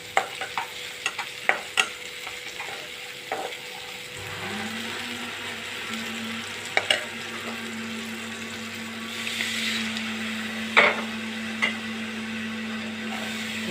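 Spice masala frying in oil for a vegetarian egg curry, with clicks of stirring, then water poured in that sets off a steady hiss and a low hum continuing to the end; no talking.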